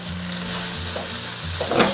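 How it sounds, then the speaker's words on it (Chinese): Green vegetables and bean sprouts stir-fried over high heat, heard as a loud, steady sizzle with the scrape and toss of a spatula, close and without talk. "我们下入青菜，该煸炒一下"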